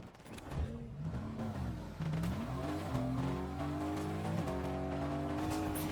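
A car driving in Fortnite, its engine droning and rising in pitch as it accelerates, with shifting revs and some tire noise, steady and close throughout with no talk.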